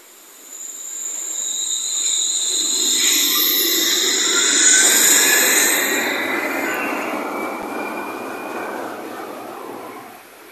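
A Wuppertal suspension railway train pulls away from Oberbarmen station, its rumble building and fading over several seconds, with high metallic squeals and screeches from the wheels along the track.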